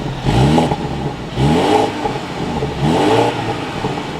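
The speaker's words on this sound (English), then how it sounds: "With my foot on the brake, that button is down below, and we can bring this X3 back to life." A 2023 BMW X3 xDrive30i engine is running up close and loud, surging through three distinct rising revs with brief settling in between.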